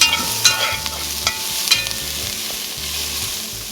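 Onions fry in a pot with a loud, steady sizzle, and a utensil scrapes and clinks as they are stirred, with no talking.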